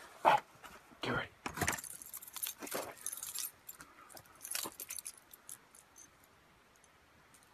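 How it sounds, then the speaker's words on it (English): A set of keys jangles and clinks in several rattling bursts close by during a tense night while camping in a forest, mixed with shuffling movement and low voices. "Get my keys."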